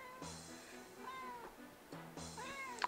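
A cat meowing close by, three drawn-out meows with a short pause between each, clear over a quiet room background.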